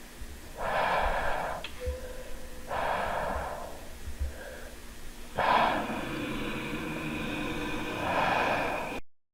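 Someone snoring in a dark, enclosed space, with slow, heavy breaths drawn in and pushed out in a steady rhythm, about four long cycles, close and fairly loud over a low background hum.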